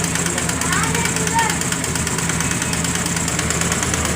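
A Honda Grazia BS4 scooter engine idles with an abnormal mechanical noise, a steady close running drone with a persistent knocking, ticking rattle throughout.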